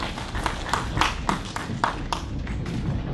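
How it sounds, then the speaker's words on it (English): A conference audience claps for panelists as they take their seats. The clapping comes as a sparse, fairly regular run of sharp claps over a low room murmur. "All right, round of applause."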